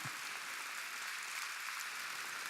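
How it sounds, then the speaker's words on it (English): Keynote audience at an annual business conference giving a round of applause, a steady, even wash of many hands clapping, soft and distant-sounding throughout. "Let's give them a round of applause."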